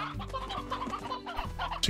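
Chickens cluck in Slime Rancher, a short run of close, busy clucks and squawks overlapping, with no talking.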